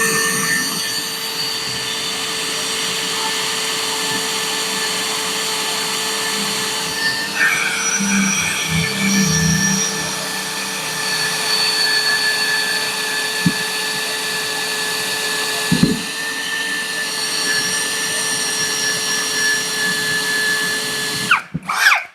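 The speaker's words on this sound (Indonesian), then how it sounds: "Untuk modenya tetap mode drill di torsi 1" A Lucid LX-60 cordless drill runs steadily in drill mode at torque setting 1, a loud continuous motor whine with a slight pitch shift midway, ending with a brief clatter.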